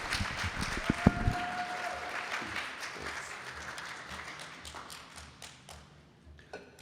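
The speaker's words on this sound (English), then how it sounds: "Okay, you want to clap?" An audience at a mushroom foraging talk in Atlanta gives a short round of clapping, starting with a few loud close claps and thumps, then fading into scattered softer applause that tails off.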